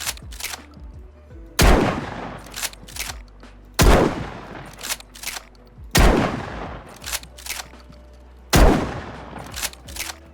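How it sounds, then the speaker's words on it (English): Four booming blasts from an 1887 lever-action shotgun in the game DayZ, spaced about two seconds apart, each followed by the clacks of the lever cycling between shots, loud and close. "he has added a 1887 shotgun to the game, which is a lever action shotgun"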